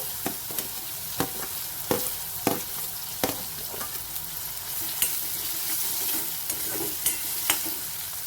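Chopped onion with green chillies sautés over medium heat in a pan, a continuous close sizzle punctuated by rhythmic spatula scrapes and taps roughly every half second, with no voices.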